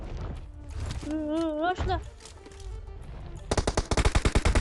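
Rapid automatic gunfire in a video game, a loud close burst of evenly spaced shots near the end, following stretches of people talking and a high-pitched voice.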